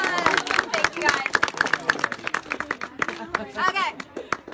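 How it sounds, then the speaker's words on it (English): Audience applauding for a group of volunteers, a dense burst of clapping from a crowd with sharp claps standing out, mixed with cheering and chatter throughout. "Give them a round of applause."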